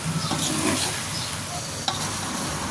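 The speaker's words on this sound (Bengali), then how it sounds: "চুলার আঁচ মিডিয়ামে রেখে আমি ভাজিটাকে এভাবে হালকা হালকা নেড়ে দিয়ে ভাজা ভাজা করে নিলে এই বিজলা ভাবটা চলে যাবে।" Okra bhaji stirred over medium heat in a frying pan: a steady close sizzle of frying vegetables with soft scraping strokes, and one brief sharp clink near the end.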